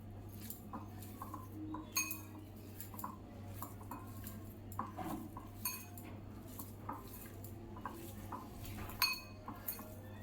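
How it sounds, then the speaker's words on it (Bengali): Soybean mixed with besan and Kashmiri chilli powder in a bowl gives faint, irregular clinks and scrapes of a spoon against the dish over a low steady hum, quiet and without speech. "সামান্য পরিমাণ কাশ্মীরি লঙ্কার গুঁড়ো দিলাম এবার এটাকে ভালো করে মেখে নেব"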